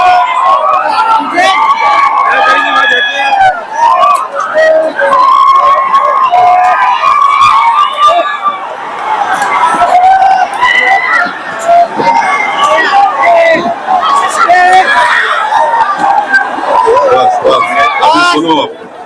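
A noisy crowd at a political rally shouts and chatters loudly and continuously, voices overlapping in a dense babble with bursts of louder yelling throughout.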